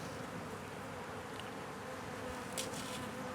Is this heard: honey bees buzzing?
yes